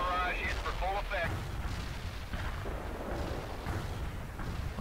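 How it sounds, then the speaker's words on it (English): An artillery barrage in the World in Conflict video game lands as deep rumbling booms and crackling blasts rolling continuously, with voices heard over the din. "Artillery barrage hit for full effect."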